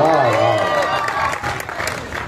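Audience at an all-India Hindi poetry recital (kavi sammelan) applauding in a dense, steady wash of clapping, with a voice speaking over it.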